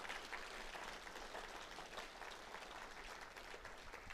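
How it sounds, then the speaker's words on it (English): Applause for Hawaii Mission Academy at its 100th anniversary celebration, a faint, steady wash of many hands clapping from a distant crowd. "How about a big round of applause for Hawaii Mission Academy?"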